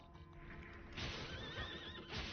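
A horse neighs with a shrill, wavering whinny over a muffled rumble, faint and tinny, from the video game Bloodstained: Ritual of the Night.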